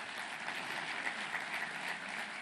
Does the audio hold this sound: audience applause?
yes